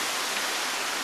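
Grotto Falls, a waterfall seen from its top, gives a steady broad hiss of falling water, loud, even and unbroken, with no voices.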